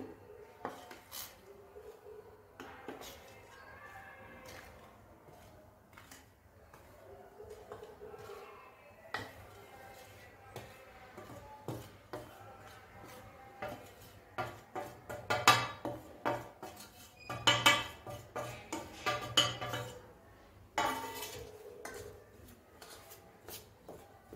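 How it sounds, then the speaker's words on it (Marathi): Fruit and nut chocolate cake batter, with dry fruits soaked in orange juice, mixed in a bowl: soft scraping at first, then a run of rhythmic clinking and knocking strokes that grows louder, with a voice faintly underneath. "ह्याला आता व्यवस्थित मिक्स करून घेऊया"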